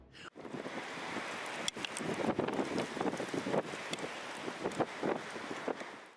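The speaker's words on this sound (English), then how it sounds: "A gust of wind was seen twisting with a heavy thrust, forcing tall trees to move with its rhythm." Strong gusting wind during a heavy rainstorm at a forest campsite, a dense continuous roar buffeting the microphone with rough surges throughout, loud and close.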